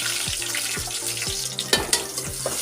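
Fenugreek, curry leaves and onion fry in a home kitchen pan, a close sizzle broken by rhythmic scraping stirs and a couple of louder clatters, with no talk.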